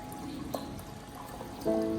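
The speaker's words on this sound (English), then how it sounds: "I add about 1 liter of boiling water and stir gently so the ingredients are evenly soaked" Boiling water poured into a container of mixed ingredients for plant feed, a steady low trickle and splash running continuously at close range, with a brief tonal clink near the end and no speech.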